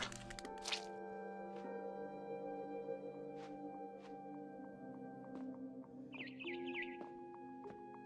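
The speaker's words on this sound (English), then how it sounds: "Then I heard chirping outside my window." A barn swallow chirps outside a window in the video game What Remains of Edith Finch: a brief, faint flurry of high twittering chirps near the end over a quiet humming ambient score, with a few soft knocks earlier.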